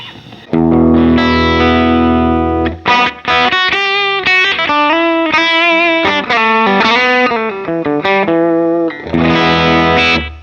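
An electric guitar plays a clean-toned melodic phrase with sustained, overlapping notes from a delay effect, loud and alone.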